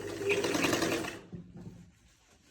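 A sewing machine stitching a sleeve onto a shirt, a close, rapid whirring run of stitches for just over a second, then stopping to quiet handling sounds.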